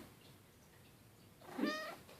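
A house cat gives a single short meow, close and fairly clear, against a quiet room background.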